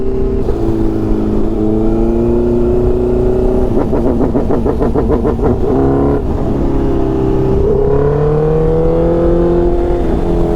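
A motorcycle engine hums steadily while riding toward the port of La Selva near Cadaqués, a loud, close, continuous drone with a brief throttle flutter midway and gentle pitch swells as the engine revs up and settles.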